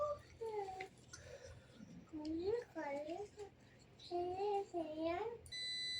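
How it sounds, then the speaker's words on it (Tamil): A new multimeter in continuity-test mode gives a steady, high electronic beep that starts right at the end, after several seconds of someone talking. "இந்த மல்டிமீட்டர் நல்லா பீப் சவுண்டு கேட்குது"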